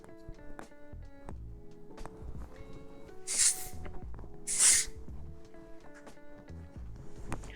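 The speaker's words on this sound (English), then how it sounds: "I'm going to be using IGK's texture spray." IGK texture spray is misted onto hair during a shag haircut, two short sharp hissing bursts about a second apart, close and clear over quiet handling noises.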